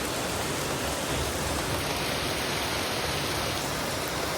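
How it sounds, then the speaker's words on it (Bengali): Heavy rain falls hard in Dhaka near a kitchen, a dense, loud, constant roar of downpour filling the whole span without any talk. "এত জোরে বৃষ্টি আসছে"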